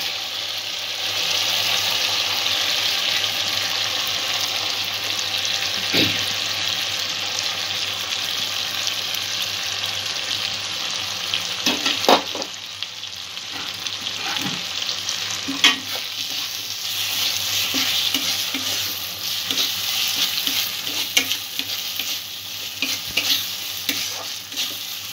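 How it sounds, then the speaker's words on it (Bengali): Rice frying with spices in a pan for a pointed gourd dish, a continuous sizzle under repeated stirring and scraping with occasional sharp knocks, no voices. "চালটা একটু ভেজে নেব মশলার সাথে।"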